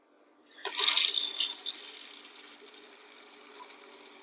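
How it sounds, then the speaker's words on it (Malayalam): Water poured into a stained pressure cooker: a bright splashing rush starts abruptly, peaks briefly, then settles into a quieter steady trickle. "ഇതിൽ മുക്കാൽ ഭാഗം വെള്ളം ഒഴിച്ചിട്ടുണ്ട്"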